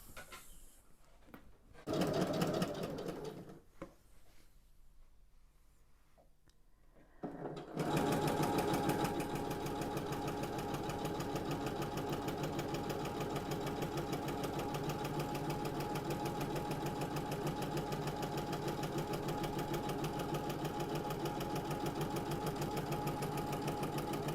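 A sewing machine stitches across a lay-flat drawstring cosmetics bag. A few soft handling knocks and rustles come first, then the motor kicks in and runs loud and steady, rattling evenly and without pause to the end.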